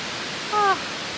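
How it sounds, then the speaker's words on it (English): A waterfall on Mount Olympus makes a steady, even broadband rush that fills the whole moment at moderate level, with a short voice briefly rising over it. "We found the waterfall."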